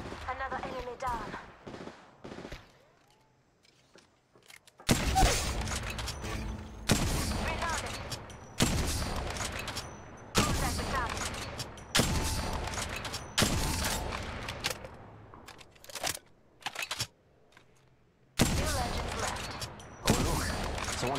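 Gunfire in the mobile battle royale Apex Legends Mobile: repeated loud bursts of automatic fire in several volleys separated by short pauses, with a voice speaking over the quieter gaps.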